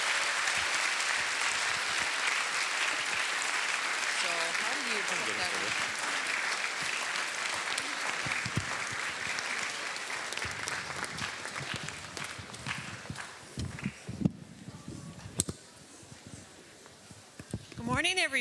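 Sustained applause from a school audience welcoming the justices of the Minnesota Supreme Court, a dense steady patter that fills the room and fades toward the end, with scattered voices and a brief murmur underneath.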